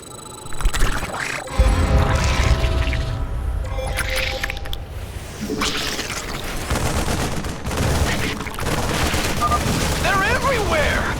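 Rapid gunfire and explosions in the real-time strategy game StarCraft II, a loud, dense fusillade of shots and bursts running almost continuously from near the start, with a faint voice now and then beneath the battle noise.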